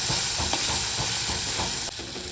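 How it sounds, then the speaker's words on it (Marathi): Tomato and browned onion sauté gently on low heat, a continuous soft sizzle with faint scraping stirs, the level dropping slightly near the end. "टोमॅटोही अगदी 1 ते 2 मिनटं अगदी मंद आचेवर परतून घ्यायचं"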